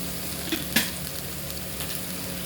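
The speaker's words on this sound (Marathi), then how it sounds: "त्याच्यामध्ये थोडा कांदा लाल होऊ दिला." Onion and a few curry leaves frying in oil in a kadhai while being cooked for an umbar (fig) vegetable dish, a steady low sizzle with a sharp clink of a spoon against the pan, no voices.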